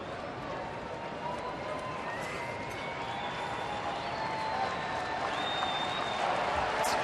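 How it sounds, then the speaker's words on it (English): A big baseball stadium crowd at a Cleveland at Detroit game keeps up a steady, far-off roar of cheering and murmur, building slightly toward the end, with a few faint whistles rising above it. "Crowd starting to get behind Verlander now."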